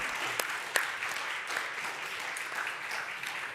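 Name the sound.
audience clapping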